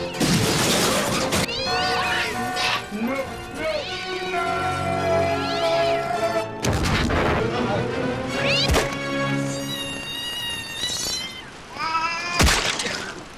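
A cat meows and caterwauls repeatedly in a movie scene, loud wavering cries mixed with sharp thwacks and crashing hits, with people talking and shouting over parts of it.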